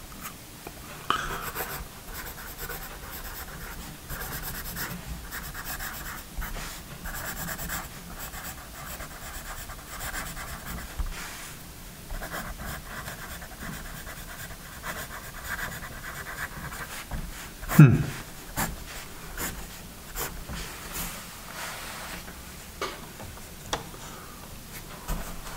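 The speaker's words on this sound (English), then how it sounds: "it is a very smooth writing pencil" A Paper Mate Mirado triangular pencil writes on paper, a soft continuous scratching with irregular strokes and taps, close and quiet, with no speech.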